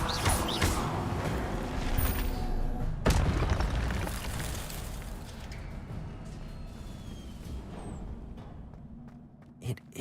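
A booming, crackling burst as the Incendio fire spell erupts in Hogwarts Legacy, with a sharp impact near the start, another strong hit around three seconds, and rumbling debris fading toward the end.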